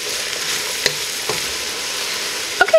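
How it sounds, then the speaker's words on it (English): Potatoes sauteing in a pot as the base for home-canned chicken pot pie filling give a steady close sizzle, with a few brief stirring knocks and scrapes and a sharper clatter near the end. "we're going to saute that for about 2 minutes, and then we are going to add our stock"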